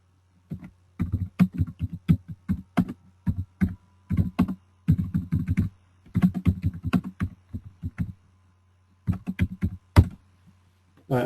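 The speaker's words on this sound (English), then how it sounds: "all right, I'm just typing anything" Fast typing on a computer keyboard, heard close and crisp as rapid bursts of clicking keystrokes separated by short pauses over a low steady hum, with no voices.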